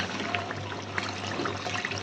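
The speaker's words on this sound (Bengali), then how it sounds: "অল্প একটু জল দিয়ে দিই" A little water is poured into a chicken curry in a pan, making a continuous splashing trickle with a low steady hum underneath, close and moderately loud.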